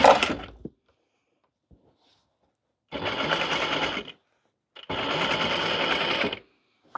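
A sewing machine top stitches the folded crown of a fabric witch hat, running in two bursts of steady rapid clatter, each a second or more long, separated by quiet pauses.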